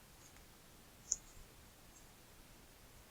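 One sharp, faint click of an Enter key pressed on a computer keyboard stands alone against quiet background hiss, with a couple of softer clicks around it.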